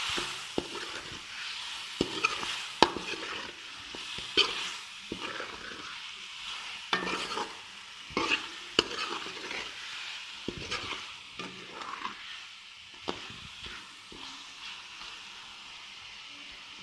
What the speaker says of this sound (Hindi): अब इसमें आप प्रॉपर चम्मच हिलाते रहें ताकि आपका मसाला अच्छे से फ्राई हो जाए